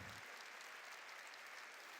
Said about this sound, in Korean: 깨닫는 사람만 박수 치라고요.